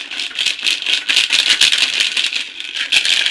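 Numbered balls rattle and clatter in a drawing container, a dense, fast, continuous shaking close to the mic, loud and without talk.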